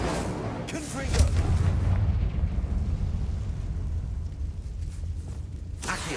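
Explosion spells go off in Hogwarts Legacy, sending deep booming blasts and rumbling bursts through a steady low roar, with a spoken voice close by.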